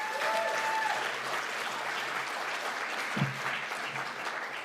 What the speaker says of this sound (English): I think we all deserve to give them all, wherever they might be, a round of applause.